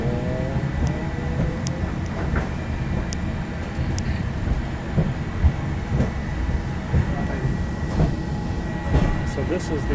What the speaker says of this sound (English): This is the tram, and now it's going to go high in the vertical.